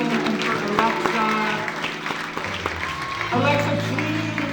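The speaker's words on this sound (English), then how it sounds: "let's give a hand of applause for Ashton and for Alexa" An audience gives a hand of applause at a hairstylist showcase, moderate clapping mixed with people talking nearby.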